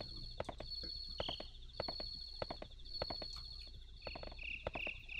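Horse hooves clip-clop in a steady walking rhythm while riding around a farm in the video game Harvest Moon 64, with chirpy game music tones playing alongside, moderately loud and without talk.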